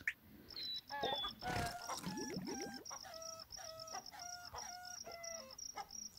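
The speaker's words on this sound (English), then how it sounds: "Whoa, the chickens are making beautiful music." Chickens cluck and squawk in rapid bursts close by, with a rooster crowing among them and a high steady tone running underneath.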